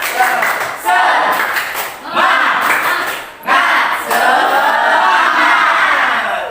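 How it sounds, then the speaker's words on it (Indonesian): A group of schoolchildren claps in unison to a quick rhythmic pattern, loud and close, with bursts of shouting voices between the clap phrases. "sebelum memulai, tepuk semangat dulu lah. Tepuk semangat."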